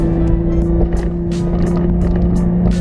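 A Nissan 350Z engine drones steadily while driving, a loud constant low hum with strong engine tones throughout, heard from inside the car, with no talking.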